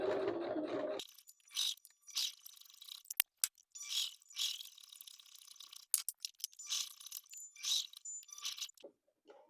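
A sewing machine stitches the seam of a tote bag in short, stop-start bursts of rapid mechanical whirring and clicking, separated by quiet pauses and a few sharp isolated clicks, heard close up.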